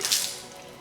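Salt water sprays out of a hurricane-flooded Harley-Davidson Ultra Limited motorcycle engine as the crank is forced with a breaker bar: a short, hissing, splashy burst that fades within a second.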